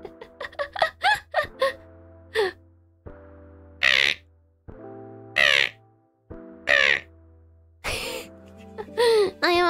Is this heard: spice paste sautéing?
no